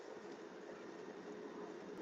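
Steady interior rumble of a passenger train in motion, a continuous even roar with no distinct clacks, heard from aboard the car on a ride toward DC.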